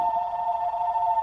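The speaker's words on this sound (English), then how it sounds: "I apologize for the phone ringing." A telephone rings steadily and fairly loud throughout, a sustained electronic tone with no voices over it.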